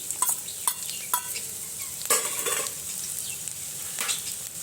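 Chopped garlic, chili and ginger fry in a pan with a steady close sizzle, broken by several sharp scraping stirs spread through the clip, with no talking.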